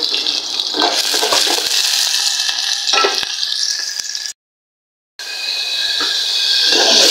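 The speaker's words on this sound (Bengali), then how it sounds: "মশলাটা কষানো হয়ে গেছে।" Spice paste sautéing in a pan, a loud continuous sizzle with scraping stirs, broken by a brief full silence before the frying hiss resumes, no talk.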